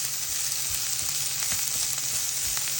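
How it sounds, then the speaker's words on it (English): Onions sizzle in a hot pan for a Jamaican curry chicken, a close, steady crackling hiss with faint stirring clicks throughout and no voices. "And then listen to that sizzle"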